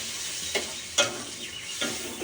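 Spice paste of green chilli, tomato and yogurt frying in a pan for prawn malai curry, giving a steady soft sizzle with a few brief scraping stirs, close and fairly quiet.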